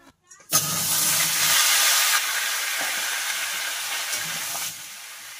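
Cumin seeds dropped into hot oil for tempering, a sudden loud sizzle that bursts in and then settles into a steady hiss, fading slightly toward the end.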